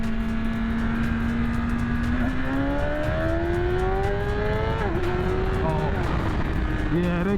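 A 2021 Suzuki S1K motorcycle engine revs hard during wheelie attempts with quick shifts: loud, close, continuous, its pitch climbing in steady sweeps and dropping sharply at each shift before rising again.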